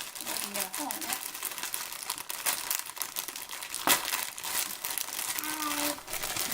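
Plastic bag of pre-shredded lettuce crinkling and rustling as it is cut open with a knife in a home kitchen, a steady crackle with one sharper burst, while people talk nearby.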